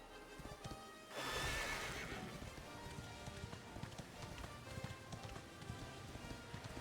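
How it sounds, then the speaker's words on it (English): Horse in Dragon Quest XI gives a loud whinny, then hooves clip-clop at a steady running pace over game music. "Horse!"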